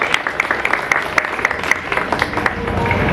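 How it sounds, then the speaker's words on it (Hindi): An audience claps in steady applause at an Independence Day (15 August) gathering, with sharp individual claps over a dense crowd wash and a little voice underneath. "जोरदार तालियों से उनका स्वागत कीजिए।"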